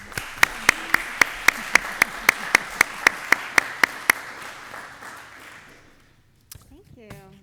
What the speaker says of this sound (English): join me in a round of applause for our